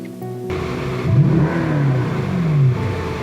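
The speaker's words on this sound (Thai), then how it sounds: "เดี๋ยวเรามาลองดูว่าเสียงเครื่องยนต์จะเป็นยังไง จะดุดันและ กำยำแค่ไหน" A Mercedes-Benz coupe engine, a Benz 6.1, revs up sharply a few times, rising and falling roars close by, settling back between bursts.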